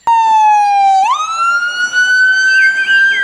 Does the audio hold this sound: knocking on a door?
no